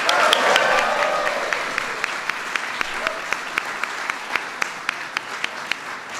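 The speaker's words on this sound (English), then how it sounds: "Give them a big round of applause." A large audience claps at a White House Pride Month reception, dense applause at first that thins into scattered individual claps, sharp and close, while a voice speaks over part of it.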